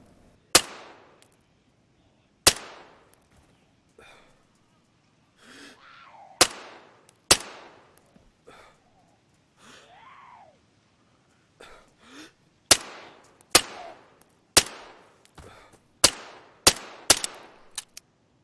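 Pistol shots from DayZ ring out one at a time, about a dozen sharp, loud cracks spaced irregularly with short echoing tails, separated by quiet gaps and occasional faint movement sounds.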